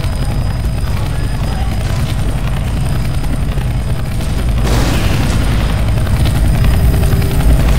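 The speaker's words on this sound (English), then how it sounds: "Look, there's a chopper." A helicopter in Left 4 Dead 2's Dark Carnival campaign gives off a loud, steady rotor roar that fills the whole stretch without pause and swells slightly toward the end.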